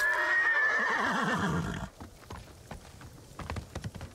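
Horse in the video game Ghost of Tsushima gives a loud, clear whinny lasting nearly two seconds, followed by a few scattered hoof clops and light clicking sounds.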